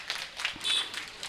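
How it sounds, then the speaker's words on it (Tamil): Audience applause at a Kanda Sashti festival cultural program in Tirunelveli, a short burst of scattered hand claps from a crowd, fairly faint and brief. "நல்லதாயம்மா அவர்களுக்கு ஜோர கைத்தட்டுக்க போவோம்."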